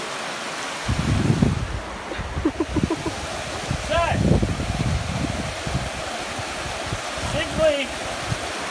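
Steady broad rushing of a waterfall on a walking track in the Australian Alps, with someone talking close by over the constant water noise.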